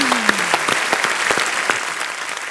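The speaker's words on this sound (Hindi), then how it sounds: "जोरदार तालियां एक बार मनोज भाई और तापसी के लिए." Studio audience applause on the set of The Kapil Sharma Show, a TV comedy program, with a steady wash of many hands clapping at close, even loudness throughout.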